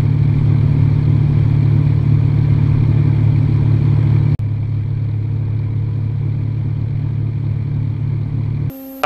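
A small airplane's engine drones steadily and loudly in flight over the north end of Pyramid Lake, Nevada, on a fall day, a constant close cabin roar with one brief dip partway through.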